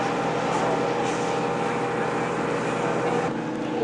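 A steady motor drone from a boat engine with rushing wind and water noise, constant and loud throughout.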